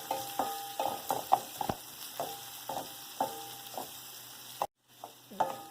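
Onions, curry leaves and a chili sautéing in a pan for celery poriyal: a low sizzle broken by rhythmic spatula scrapes and taps about every half second, close and clear, with a brief silent gap near the end.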